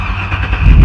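A 2006 Hummer H2 with a 6.0 engine cranks and catches, a low mechanical whir that swells into a loud rumbling engine toward the end, close up.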